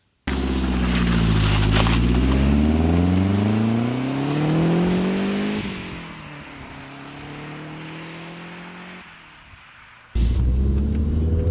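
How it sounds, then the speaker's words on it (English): Lancia rally car pulling away up a road, engine rising in pitch through repeated gear changes, loud and close, easing off near the end before a sudden loud burst returns. "let's go and take a rally icon for a spin up the road"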